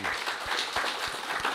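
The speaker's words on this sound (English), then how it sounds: "I think that's worth a round of applause in appreciation of what they've done" Mourners at a funeral service give a quiet round of applause, a thin patter of scattered claps with a few sharper hand strikes, heard from a distance in the room.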